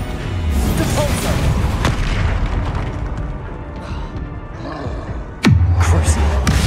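A Depulso spell cast in Hogwarts Legacy: a sharp whooshing release that drops into a heavy, booming thud, rising out of a dense, continuous battle din.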